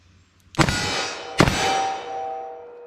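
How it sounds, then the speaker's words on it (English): .44 Magnum double tap from a Smith & Wesson Model 69 revolver: two sharp, loud gunshots about 0.8 seconds apart, each with a ringing decay. "let me see if I can get a double tap with the 44 mag"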